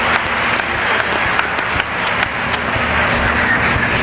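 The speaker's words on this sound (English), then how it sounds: "we have to give her an extra round of applause for having done that" An audience applauds steadily for a student who has just recited a poem at a school theater and poetry awards ceremony, a dense, even wash of clapping that holds for the whole stretch without any talk.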